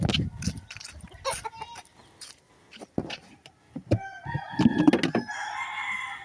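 A free-roaming chicken kept at home clucks and crows nearby in short bursts, mixed with scattered household knocks and a faint background hum.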